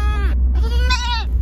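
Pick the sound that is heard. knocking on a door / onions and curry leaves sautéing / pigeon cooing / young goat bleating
young goat bleating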